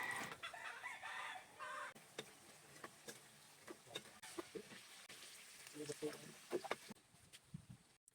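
Hens cluck faintly at a farm, with scattered soft clucks and clatter in the background while people talk nearby.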